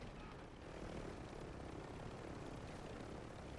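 A helicopter in Call of Duty Warzone gives off a loud, continuous rotor and engine roar that stays fairly even throughout, with no voices over it.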